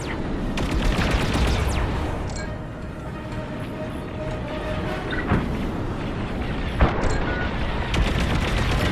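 Blaster fire rattles in a Star Wars Squadrons space dogfight, rapid bursts of shots over a constant roaring engine and battle din, loud and dense with a few sharper cracks.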